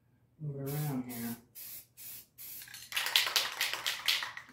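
Several short bursts of spray hiss from an aerosol spray paint can painting an electric guitar, separated by brief pauses, ending in a longer, rougher spray, close up after a low voice.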